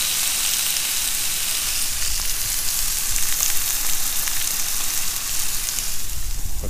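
Onions fry on a Road Trip grill with a loud, steady, close sizzle that stays even and unbroken throughout, with no talk over it.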